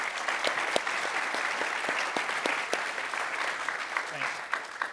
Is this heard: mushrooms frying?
no